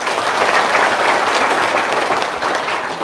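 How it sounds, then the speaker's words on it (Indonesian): A crowd applauds steadily and loudly throughout at a gathering honouring a child's admission to medical school, with dense clapping sustained from start to finish. "Tepuk tangan dulu dong."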